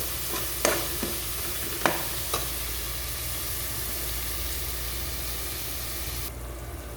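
Vegetables frying in a pan with ground cumin, a steady loud sizzle broken by a few sharp spoon taps and stirs early on.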